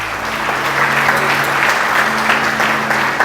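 A church congregation claps at a sermon, with loud, dense, sustained applause from many hands close by and a low hum running underneath.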